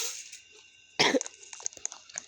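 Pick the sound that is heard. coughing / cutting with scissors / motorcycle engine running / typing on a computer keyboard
coughing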